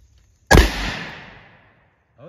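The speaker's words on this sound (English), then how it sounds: "So I'm just going to shoot these water jugs" Single loud gunshot from a Kimber K6s DASA 2-inch .357 Magnum revolver firing 158 grain Aguila lead rounds at water jugs outdoors, a sharp close crack followed by a long fading echo.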